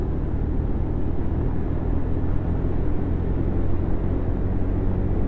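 Continuous low engine roar with wind rumble, steady and loud, from a Yamaha Aerox motor scooter accelerating at speed on a road in smoky haze.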